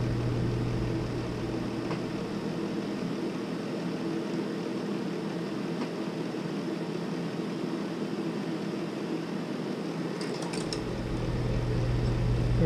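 A fan runs steadily to clear solder flux fumes while drone LiPo batteries are soldered in series, a constant broadband whoosh with a low hum, and a faint tap or two near the end.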